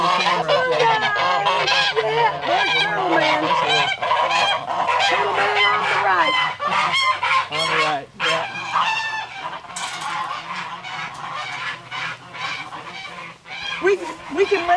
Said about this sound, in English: I mean, this gander over here. Listen to him.